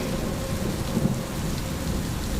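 Heavy rain falls in a steady, dense roar with low thunder rumbling underneath throughout, a continuous stormy wash with no voices.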